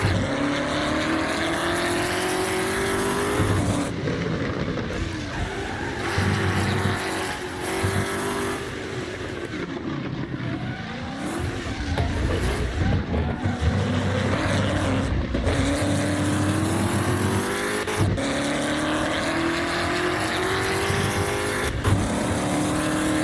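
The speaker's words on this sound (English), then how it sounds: "I'm literally sliding the car on these corners, man." American muscle car in the Assetto Corsa racing game, its loud engine roaring continuously as it slides through corners, revs rising and falling with gear changes and throttle lifts.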